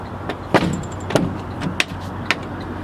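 A Class B truck's door latch is worked during a pre-trip inspection, giving about four sharp, close mechanical clicks and clunks spaced roughly half a second apart over a low idle hum.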